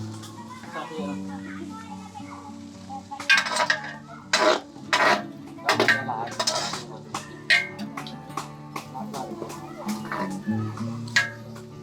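Food is stirred in a pot, with repeated scraping and clinking of a utensil against the metal in uneven strokes. People talk throughout, and a chicken clucks in the background.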